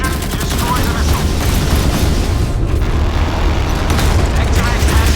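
Anti-aircraft guns on a warship in a naval combat video game fire at an incoming missile, a loud, dense and unbroken rattle of rapid shots and blasts that runs through the whole span.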